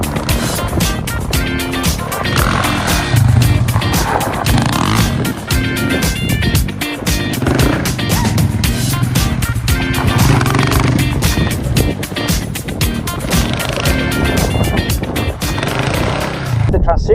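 An off-road motorcycle on a riding course shifts from a brake slide into a power slide. The engine roars loud and continuous with revving surges, while a voice talks over it.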